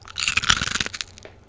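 A crunchy snack is bitten and chewed close up, a rapid burst of loud brittle crunches that fades out over a second and a half, with no talk.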